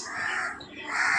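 Close crows caw loudly in two rasping, drawn-out calls that rise and fall, heard alone without any speech.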